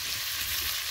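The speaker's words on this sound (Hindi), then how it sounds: "ये हमारी प्याज जो ये फ्राई हो रही है" Onions frying gently in a pan until translucent, a dense, even hiss of sizzling oil, close and steady for a brief moment with no voices.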